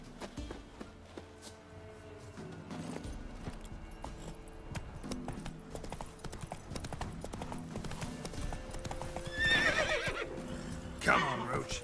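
Roach the horse in The Witcher 3, hooves clip-clopping at a quick gallop throughout, with a loud whinnying neigh near the end, while someone talks over the game.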